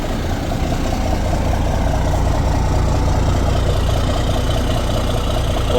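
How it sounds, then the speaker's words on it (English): An old truck idles steadily in cold weather of about 20 degrees, a loud, close, continuous low rumble with an even rhythm throughout and no talking. "Truck fired right up."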